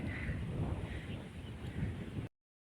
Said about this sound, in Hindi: इस वाले खेत में आने के बाद यहाँ पे इतनी अच्छी हवा चल रही शाम के समय।